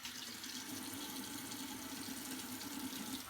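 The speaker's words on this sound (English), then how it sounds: "I'm going to rinse the soap off my hands" Tap water runs steadily into a sink as soap is rinsed off hands, a continuous even splashing rush close by and fairly quiet, with no talking.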